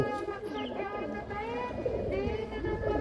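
Punjabi pigeons coo in low, throaty murmurs close by, overlapping continuously with a busy bird chatter and faint background voices.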